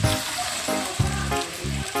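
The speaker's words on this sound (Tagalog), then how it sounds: "Tapos lagyan na natin yung munggo." Mung beans go into a hot pan and set off a steady, close sizzle and crackle, with a few louder bursts as they land and some tonal sound running underneath.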